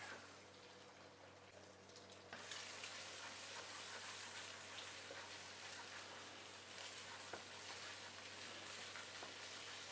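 Beaten egg seasoned with light soy sauce and salt fries in a pan for lap cheong fried rice with cured meat, giving a steady, soft hiss that swells after a couple of seconds and continues evenly.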